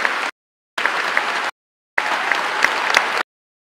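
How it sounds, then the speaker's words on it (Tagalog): Applause from a parliamentary audience at the Philippine State of the Nation Address, heard in three separate bursts of steady, dense clapping broken by silent gaps, loud and close. "palakpak kayong lahat"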